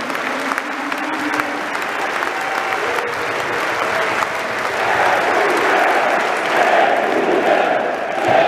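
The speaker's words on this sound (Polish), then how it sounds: "jeszcze raz wielkie brawa dla naszych bohaterów sprzed 40 lat" A stadium crowd at Widzew Łódź applauds the club's football heroes of forty years ago before a league match, continuous loud clapping with scattered cheers and shouts that swell toward the end.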